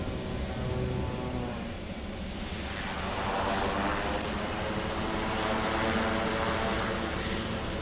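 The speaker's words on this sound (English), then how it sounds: "we'll check the reverse pitch on the propeller" A Pilatus PC-6 turboprop in Microsoft Flight Simulator runs with its propeller in reverse pitch, producing a steady, loud engine and airscrew roar that swells slightly midway and holds close throughout.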